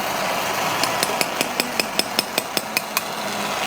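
Repeated mallet blows drive a surgical chisel into lumbar spine bone during endoscopic decompression surgery: about a dozen crisp, regular metallic taps in steady rhythm over a constant background hum.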